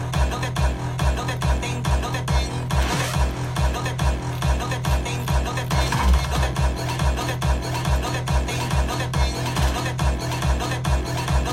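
Full EDM track from a studio session, a steady four-on-the-floor kick with layered percussion and synth elements running together continuously and loudly, with no talking.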